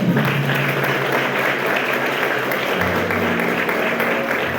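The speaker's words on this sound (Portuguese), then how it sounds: "Aplauda o Senhor mesmo." A church congregation claps together during a worship service, a steady, dense wash of hands filling the room for several seconds with a faint background hum beneath.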